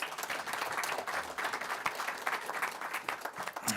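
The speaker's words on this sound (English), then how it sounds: "Ladies and gentlemen, your panelists, please give them a round of applause" An audience at a cricket board announcement event for the 2027 World Cup applauds panelists with a dense, sustained round of clapping that fills the room evenly from start to finish.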